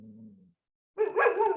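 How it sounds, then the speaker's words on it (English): A dog lets out a low growl or whine, falls silent for a moment, then gives a loud, close bark followed by a strained yelp. "Horrible dog. Stop it."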